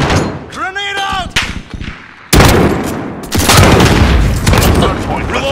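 A grenade goes off in a Call of Duty Modern Warfare match, a sudden loud booming blast followed by rumbling gunfire and battle noise, with voices calling out beforehand.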